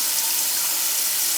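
Water runs steadily into a stock pot holding a whole chicken for stock, a close continuous hissing gush that stays even and loud with no voices.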